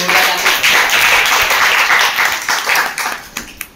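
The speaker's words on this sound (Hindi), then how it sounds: "एक बार तालियां हो जाए अपने लिए" An audience at a youth team meeting presentation in Ballabhgarh applauds, a dense, steady wash of many hands clapping that holds for a few seconds before thinning out at the end.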